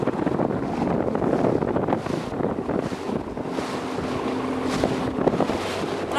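A passenger boat out of Bunggao pushes through rain and heavy waves, a steady loud churn of engine, water and wind buffeting the microphone throughout with no break.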